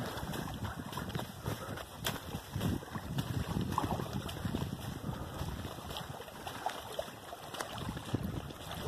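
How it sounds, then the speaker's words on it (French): At a beach at Bahia Santo Domingo, water laps and washes gently and steadily close by, mixed with soft wind rumble on the microphone and no talk. "le bruit de l'eau ici, très agréable"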